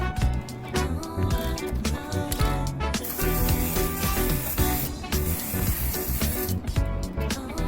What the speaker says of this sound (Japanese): ちょっとスプレーが近いのですが出が悪いのでこのようになりました。